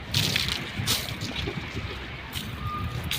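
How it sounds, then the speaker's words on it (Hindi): Water splashing and sloshing over polished white marble slabs in an outdoor stone yard, a close wet wash with some background noise. "सब पर पानी डाल बेटा एक बार"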